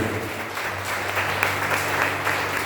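A church congregation at a missions service applauds for the Lord, a steady patter of many hands clapping together at moderate volume over a low background hum.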